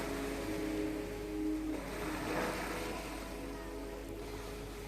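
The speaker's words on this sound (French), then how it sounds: "Je respire avec les vagues." Ocean waves wash in and out in a steady broad roar, with a faint low engine-like drone underneath and no talk.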